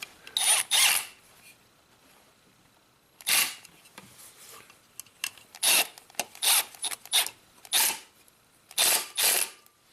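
Small screws being driven by hand to fasten wires onto a Saab engine control module, heard as a series of short scraping, rasping bursts with pauses between them, close and clear with no talk.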